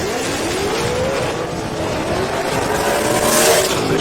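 Late-model Shelby drag car struggling for traction at launch at a drag racing event, a loud continuous engine roar with rising pitch and hints of tire squeal, heard steadily from a distance with crowd noise mixed in.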